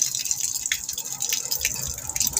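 Water streams from an opened faucet on a home water system just fitted with a new pressure switch and gauge, a steady splashing hiss with dripping accents running unbroken throughout.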